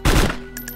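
A single gunshot in a first-person shooter cracks loud and close, followed by a short fading tail and a faint ringing tone.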